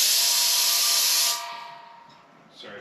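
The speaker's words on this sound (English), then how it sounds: "I'm going to grab some compressed air and blow those chunks out" Compressed air blasting chunks of debris out of a fitting during an LS swap radiator and fuel tank install in a shop, a loud sharp hiss that cuts off after about a second and a half, then a fainter sputter and a brief final puff.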